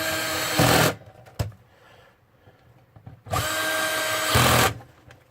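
A power drill with its clutch set to 10 drives screws while reassembling a Sony PlayStation 2, giving two loud whirring bursts of about a second each, separated by a quiet pause with a sharp click.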